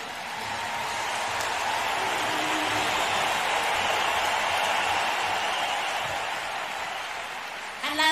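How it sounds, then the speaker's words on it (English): Large concert crowd applauding at a live show at Wembley in 2000, a dense roaring wash of clapping and cheering that holds steady for about eight seconds. "Big round of applause, huh?"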